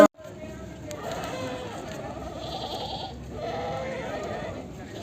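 Goats bleating repeatedly amid a busy outdoor crowd at the Bargari goat market in Punjab, the calls rising over a constant murmur of voices and background noise.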